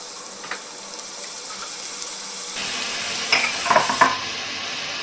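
A spoon stirs ridge gourd and chana dal in a metal pressure cooker, scraping and clinking a few times over a soft sizzle.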